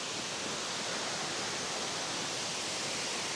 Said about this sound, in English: Here is the waterfall, guys.